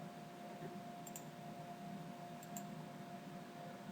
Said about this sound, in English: Select red color and click the OK button.